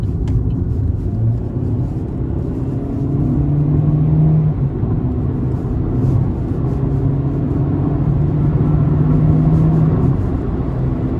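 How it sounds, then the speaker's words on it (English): Engine of a 2016 Chevrolet Spark LS with 108K miles, non-turbo, accelerating under throttle, heard from inside the car as a steady loud droning rumble with rising tones and constant road noise. "we're gonna give it some throttle here"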